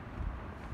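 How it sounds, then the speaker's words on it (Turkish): Strong July wind at a seaside campsite in Çeşme, İzmir roars in a short, rough gust, buffeting the microphone with low rumbling. "Öyle bir rüzgar var burada"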